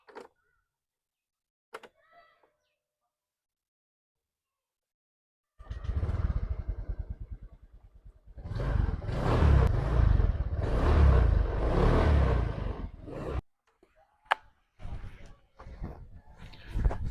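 A Honda Vario scooter running on fresh Top One Action Matic oil, its engine starting up and revving through a rising, loud ride before cutting off, followed by scattered clicks and knocks.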